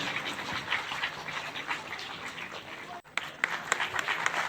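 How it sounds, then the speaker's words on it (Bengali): Audience applause at an art school's 23rd anniversary and prize-giving ceremony: a steady wash of many hands clapping throughout, with a brief dip near the end before scattered louder claps resume. "আবার একবার জোরে বড় হাতালি দিয়ে আমাদের এই অনুষ্ঠান"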